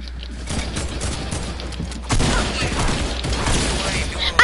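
Rapid gunfire in a shooter video game, a steady patter of shots that grows louder and denser midway, with a final sharp burst at the end.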